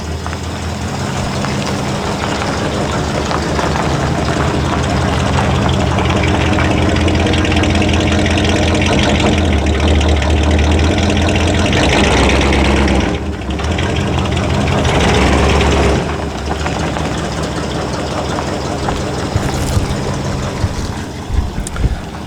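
A 1955 Ford Mainline ute engine idles steadily and loud up close after a long time unused, with a continuous rumble and a brief dip around the middle.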